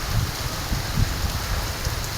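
Heavy rain pours down in Lahore, a dense steady hiss of drops striking surfaces, close and continuous with occasional louder splashes and no voices.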